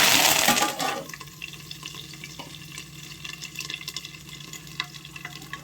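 Mustard seeds splutter in hot oil for a fish curry, opening with a loud, crackling burst that quickly drops to a quieter, muffled sizzle with a few small pops, as if covered, and no talking.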